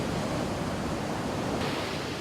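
High-tide waves crash on Kuta beach in Bali, a steady, loud, broadband roar of surf that fills the whole stretch without pause. There is no talk, and the wash brightens slightly toward the end.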